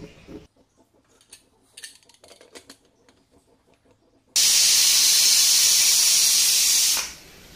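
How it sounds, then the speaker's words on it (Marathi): A pressure cooker whistles sharply as it releases steam while saffron-milk coconut rice cooks, one loud sustained hiss lasting under three seconds that cuts off abruptly after quieter kitchen clatter. "एक शिट्टी झालेली आहे."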